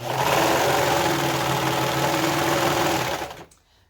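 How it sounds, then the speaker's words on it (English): A serger sewing machine runs at a fast steady whir for about three seconds, close and loud, then stops abruptly into near silence. "My serger is a little loud, so I probably won't be talking while it's running."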